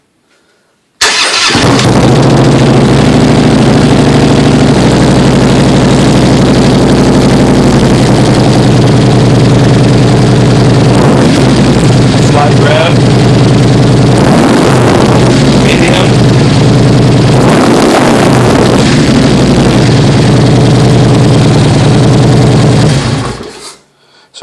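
A Honda CRF motorcycle fitted with aftermarket exhaust headers fires up and then idles loudly and close for about twenty seconds, giving a deep, throaty, steady rumble with a few brief blips of throttle before it cuts off.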